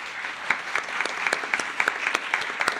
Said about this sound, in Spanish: Les agradecería un aplauso para nuestros invitados del día de hoy.